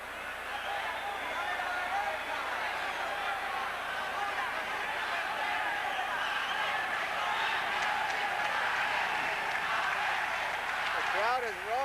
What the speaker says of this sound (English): The crowd is roaring for Alexis Arguello to get going